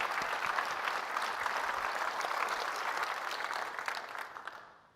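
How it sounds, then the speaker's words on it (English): Audience applause fills a conference breakout session on a technical talk: steady, dense clapping from a large crowd that holds evenly, then tapers off and fades out near the end. "I think this needs a round of applause for Rahul."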